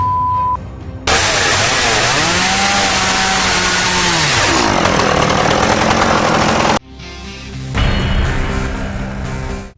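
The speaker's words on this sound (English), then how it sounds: "With their high-performance cutting capabilities, Rayco stump grinders deliver precision and reliability for even the toughest jobs." A Rayco stump grinder cuts into wood, a loud close engine roar with a strained, shifting whine as the cutter bites, a brief break, then a second loud grinding pass.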